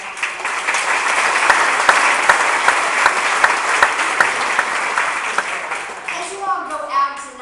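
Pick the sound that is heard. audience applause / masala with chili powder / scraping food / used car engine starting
audience applause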